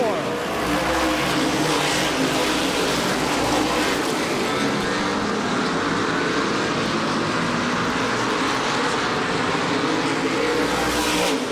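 Yellow race cars battling out of turn four at the 2005 MRS Star 100, engines roaring hard and continuously, a loud sustained drone with a voice faintly underneath.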